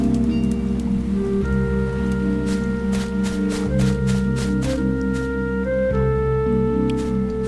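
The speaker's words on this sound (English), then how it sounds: "It rains." Rain falls in the survival video game Stranded Deep, a steady, even hiss that continues throughout over sustained tonal game sounds and low hum, with no talk.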